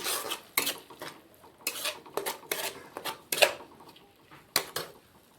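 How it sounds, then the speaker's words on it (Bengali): Spice paste with cumin powder and four green chillies stir-fried in a pan, heard as intermittent metallic scraping and clinking strokes of a spoon against the pan, fairly close, with little audible sizzle. "এবার আমি মশলাটাকে ভালো করে কষিয়ে নেব"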